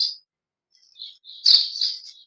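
A sparrow chirping near its nest beside an almond tree at a farm home, short bright tweets in quick clusters after a brief silence, close and clear with no voices.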